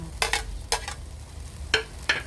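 Onion goes into a hot pan with a stir-fry of pork and luffa, giving several sharp clattering stirs of a utensil against the pan over a low sizzle, close and without talk.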